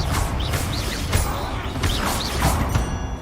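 A Confringo fire spell cast in Hogwarts Legacy inside a tomb: a series of bursts and crashes over a dense, loud game soundscape, with bright chirping effects between hits.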